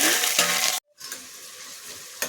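Cumin, mustard seeds and green chilies fry in hot oil with a loud sizzle that cuts out abruptly, then returns quieter with crackling and a final burst.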